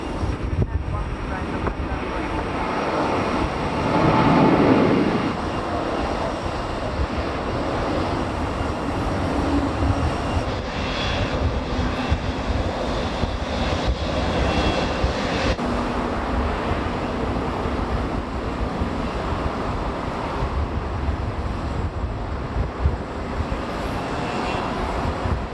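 Lufthansa heavy jet airliner landing at Minneapolis airport, a steady broadband engine roar with a brief louder swell near the start, continuous and fairly distant throughout.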